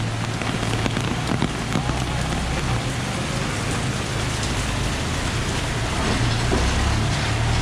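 Steady heavy rain falls during Typhoon Higos in Macau, a dense constant hiss of drops on surfaces with a low rumble beneath, loud and unbroken throughout.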